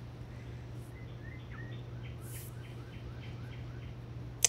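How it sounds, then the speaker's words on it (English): Little birds tweeting, a series of short high chirps repeating at a quick, fairly even pace, faint and distant over a steady low hum, with no talking. "Just little birds tweeting."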